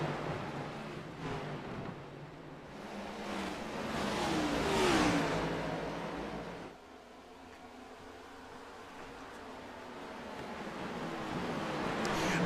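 Race car engines rev and whine through a sim racing game, with a broad mid-pitched roar that swells to a peak, drops off abruptly, then slowly builds again, the field of cars close together.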